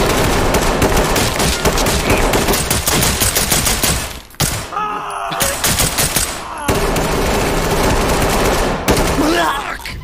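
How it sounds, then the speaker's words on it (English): Loud bursts of automatic gunfire in a roleplay video game, long rattling volleys broken by a short gap, with a voice heard briefly between the shots. "Poob, you're shooting that gun."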